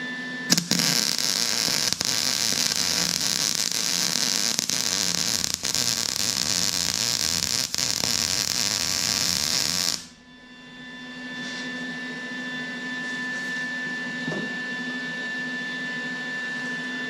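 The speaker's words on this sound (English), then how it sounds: "let's weld." Bolts being arc welded onto a New Holland tractor canopy, a steady loud crackling hiss running continuously for about ten seconds, then cutting off to a quieter hum.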